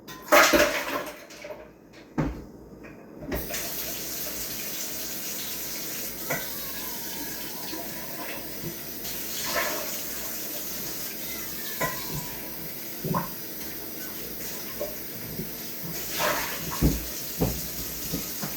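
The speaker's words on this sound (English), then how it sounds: "I'm just going to give it a quick little rinse here" A glass rinsed out under a running kitchen tap: a steady hiss of flowing water with occasional clinks and knocks of glass and dishes, fairly close and moderately loud, with no talk.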